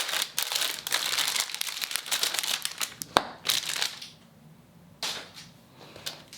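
Plastic bag crinkling during the unboxing of a SENA R1 EVO Bluetooth smart cycling helmet, with a steady rush of close, loud rustles and crackles, a single sharp snap, then quieter intermittent handling toward the end.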